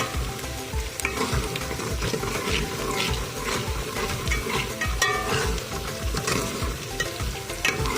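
Onions fry for an arvi baingan curry, giving a steady close sizzle with crackling and occasional stirring scrapes in the pan throughout.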